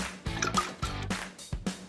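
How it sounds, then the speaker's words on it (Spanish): Tomato puree rinse water pours from the tomato container into a mixture, giving a quiet run of splashy drips and glugs that come in four or five soft pulses with no talking. "Lo vertemos en nuestra mezcla"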